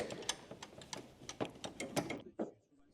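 Wrench loosening the belt tensioner on an 8th-generation 2007 Honda Civic: a run of uneven metallic clicks and ratcheting knocks, close and moderately loud, ending abruptly.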